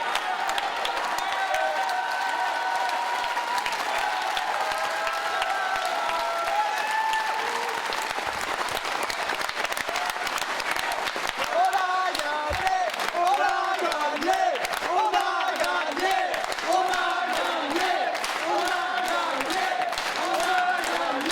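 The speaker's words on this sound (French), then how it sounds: "les militants venus très nombreux pour l'acclamer" Crowd of supporters at a municipal election victory in Le Havre applauds and cheers continuously, dense clapping throughout with rising chanting and shouting voices in the latter half.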